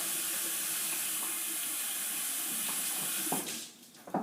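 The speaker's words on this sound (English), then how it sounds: "I'll wash my hands off." Hands washed under a running kitchen tap, a steady close rush of water that cuts off near the end, leaving a few drips and clatter.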